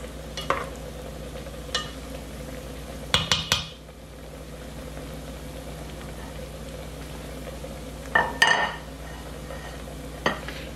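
Chickpea croquettes stuffed with shrimp and cheese fry in hot oil with a steady low sizzle. Utensils clink sharply against the pan a few times as the croquettes are turned.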